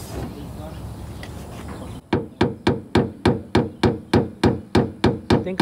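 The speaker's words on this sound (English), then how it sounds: "you're gonna get this hammer and you're gonna hit that thing until it's kind of flat" Steady metallic hammer blows flattening a dent in a Silverado truck panel, about a dozen evenly spaced strikes, loud and close, following a stretch of low background rumble.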